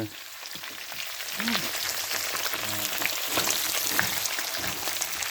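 Pork fat and food sizzle and crackle steadily in a hot, greasy pan, with occasional soft stirring scrapes; no talking.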